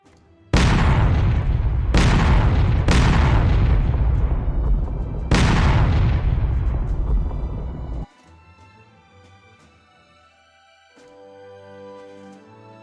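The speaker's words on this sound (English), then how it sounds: "Do you want any fires to be set while the trebuchet shot's hit?" Four heavy trebuchet impacts boom in quick succession during a VRChat medieval roleplay siege, each a loud, close crash with a long rumbling decay, before quieter ambient sounds take over.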